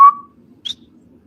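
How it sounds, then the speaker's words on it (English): A person whistles as a signal out in the woods: one short whistled note, then a brief higher chirp after a pause, both fairly close, with a low hum underneath. "We just whistle."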